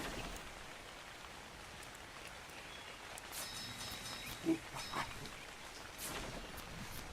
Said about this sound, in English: It is raining in the house.